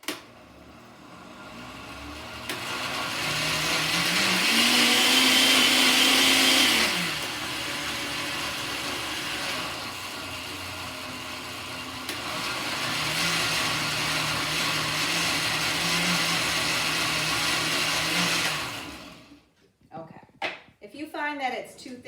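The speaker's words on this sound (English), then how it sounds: "I think I gotta blend it just a little bit more." A blender whirs through white bean dip in two long pulses of steady motor drone, each lasting several seconds, with a short pause between them and a voice talking after the second run stops.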